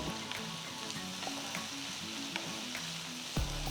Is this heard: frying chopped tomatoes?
yes